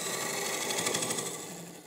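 A wood lathe spins a turned blank for a tall table, giving a steady, dense whirring hum with fast fluttering texture, close and continuous throughout, with no talk.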